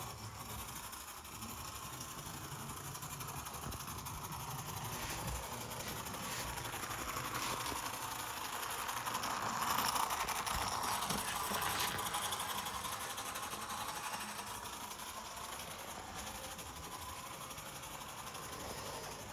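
HO scale model BB 9200 electric locomotive running light on a layout's main line, a steady whirring motor hum with faint rail clatter, constant and close, swelling slightly midway.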